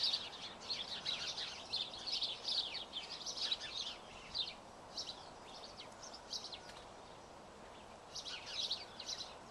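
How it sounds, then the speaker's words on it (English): Birds chatter and chirp busily in a tree, a steady stream of high, bright calls rising and falling over soft outdoor background noise, moderately distant and fairly quiet throughout. "I'm still really going to hear those birds chattering away"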